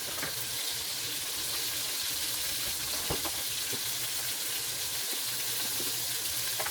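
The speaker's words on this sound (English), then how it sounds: "Turn my water on." A kitchen water tap runs in a steady broadband hiss, close and continuous, with faint clinks and knocks over it while chicken thighs cook nearby.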